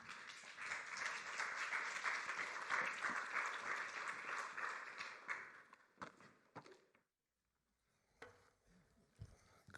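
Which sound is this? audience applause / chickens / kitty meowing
audience applause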